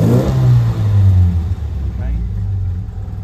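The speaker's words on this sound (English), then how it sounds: "So let's start the car up." A car engine fitted with a programmable ignition and vacuum advance cranks and catches, then ticks over roughly with a loud low rumble close by, settling into an uneven idle.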